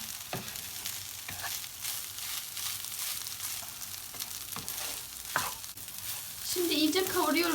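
Rice filling for stuffed grape leaves sizzles and fries in a pan, with a constant crackle and a few sharp scraping stirs, and a louder burst toward the end.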